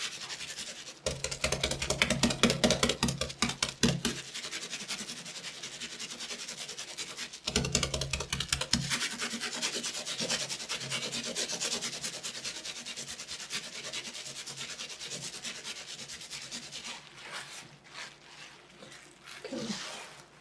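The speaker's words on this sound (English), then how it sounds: "So you can make sure you can rub this part too." Wet wool felt is rubbed by hand while felting a flower fairy house top. Rapid rhythmic rasping strokes come in bursts over twenty seconds, close and fairly loud, easing to softer scratchy rubbing with short pauses, and no talking.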